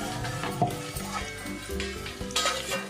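Eggs fry for egg biryani, giving a steady close sizzle in a hot pan. Stirring scrapes and a few clinks of a utensil against the metal sound over it, and no one talks.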